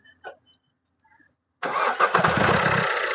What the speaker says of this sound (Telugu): సింగిల్ చౌట్లో అయితే బండి స్టార్ట్ అవుతుంది.